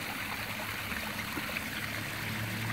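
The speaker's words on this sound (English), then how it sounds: "and there's the waterfall." A garden pond waterfall fed by an AquaScape pump splashes and trickles continuously, a soft, steady wash of falling water heard close by with no voices.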